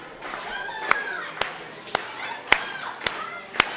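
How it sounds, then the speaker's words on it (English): Wrestling crowd claps in a slow, even rhythm, six sharp claps spaced about half a second apart, with a commentator talking over them. "hanging out outside the ring, getting these claps going"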